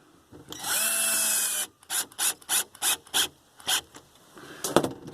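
A power drill drives a countersunk Phillips screw, with a steady whine of about a second, then a run of short, evenly spaced bursts as the screw is seated in pulses, heard up close with no talk.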